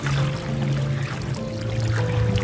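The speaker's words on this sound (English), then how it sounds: "Gentle lapping of the water against the hull." Water laps gently and steadily against the hull of a sailing dinghy cruising slowly, a soft continuous wash heard close by with a low tonal hum underneath.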